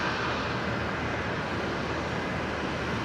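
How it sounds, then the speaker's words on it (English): A Jetstar Boeing Dreamliner departs from Brisbane Airport, its steady, loud jet roar filling the air as a broad continuous rumble with no voices over it. "The Dreamliner heading to Osaka"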